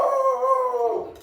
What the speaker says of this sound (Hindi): ये भौंकल लगा